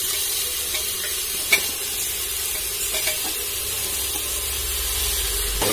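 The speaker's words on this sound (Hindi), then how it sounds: "चलिए मसाला भुनाने के बाद इसमें गोभी का छोटे छोटे टुकड़े को अब भून लेंगे" Small cauliflower pieces fry in spiced oil while being stirred, giving a steady broad sizzle with a few scraping clinks, one sharper knock early on; no one speaks.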